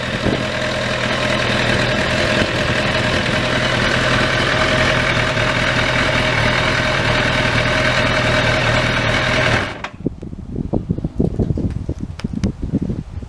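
A Kawasaki ZX10R sport motorcycle idles after a cold start, a loud, steady engine rumble with a constant throbbing beat that cuts off sharply near the end, leaving faint rustling and handling sounds.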